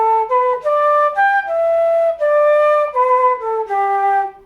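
A flute plays a short traditional-tune phrase starting on A, bright and near, with a run of connected notes rising and falling, then a final held tone, with no voices.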